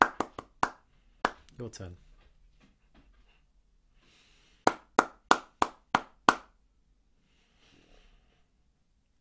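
Claps from a KS2 class lesson in a classroom, a short burst of sharp hand claps at the start, then a quick run of about six claps in a rhythmic pattern, with a spoken voice between the groups.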